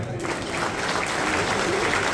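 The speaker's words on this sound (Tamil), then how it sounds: "ஸ்லாங்கூர் மாய்க்காக ஒரு பலத்தை கைத்தட்டு கொடுங்க" An audience at a Deepavali dinner in a Sungai Renggam convention hall in Malaysia gives loud, continuous applause, with a faint voice underneath.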